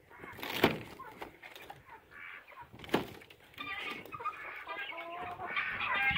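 Chickens in a greenhouse cluck and squawk close by, a couple of sharp louder calls early on, then softer chattering clucks continue.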